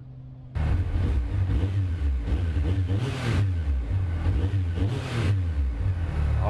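A Yamaha YXZ1000R side-by-side's engine starts up strongly and pulls through steady revving during a test ride, loud and close, with no talk.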